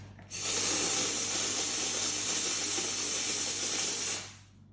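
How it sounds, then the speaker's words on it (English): A handheld steam cleaner lets out a steady, loud hiss of steam that starts abruptly, holds for about four seconds, then cuts off, with a faint low hum beneath. "Oh wow, that is instant steam, guys."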